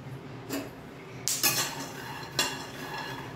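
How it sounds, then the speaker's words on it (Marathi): A few metallic scrapes and clinks of a utensil against a wok as peanuts roast, separated by short pauses, close and moderately loud. "इकडे आता शेंगदाणे भाजायला टाकले आहेत मी कढईमध्ये"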